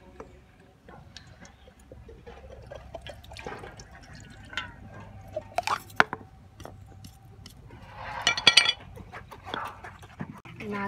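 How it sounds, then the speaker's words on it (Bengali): Palm puree is strained through a sieve while liquid falls into a bowl, making sparse, faint drips and small ticks, with louder splashy handling near the end and a soft voice in the background. "একটা বাটি দাও গো, জল পড়ছে।"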